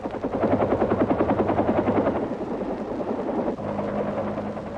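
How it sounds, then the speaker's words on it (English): Evacuation helicopter in 1972 wartime footage of the Battle of An Loc, its rotor chopping in a loud rapid pulse that steadies into a dense engine whine and drone, close and without speech. "When the evacuation helicopters do come, there is a great crush to get aboard."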